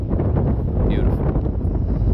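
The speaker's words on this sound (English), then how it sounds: "it is a little windy here" Steady wind buffets the microphone outdoors at Fort Humboldt, a continuous low rumble with faint gusting rustle throughout, close and loud.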